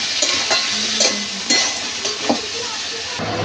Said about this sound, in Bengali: এবার ভেজে রাখা ক্যাকড়াগুলো দিয়ে দেবো। এই ক্যাকড়ার সাথে মশলাটা দিয়ে ভালো করে কষিয়ে নেব।